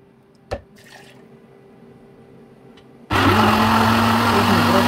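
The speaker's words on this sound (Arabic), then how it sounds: "ونضربها في الخلاط كويس" A kitchen blender whirs into action after a few quiet seconds and small clinks, blending chopped mango with two glasses of water into a loud, steady motor roar.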